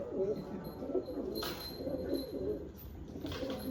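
Soft, low pigeon coos repeat steadily in a gentle rhythm, close by, with light background rustle and no talking.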